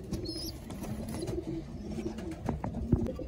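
Domestic pigeons coo softly in their loft during cleaning, low repeated throaty calls close by, mixed with light clicks and shuffling, and no speech.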